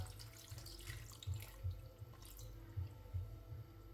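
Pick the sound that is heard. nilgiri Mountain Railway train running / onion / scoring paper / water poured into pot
water poured into pot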